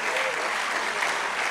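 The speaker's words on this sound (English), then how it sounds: "Let's clap for these ones." An audience at a school event applauds parents, with a brief burst of steady, close clapping from many hands.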